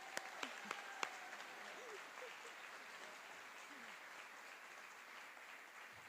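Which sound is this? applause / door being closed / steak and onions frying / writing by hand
applause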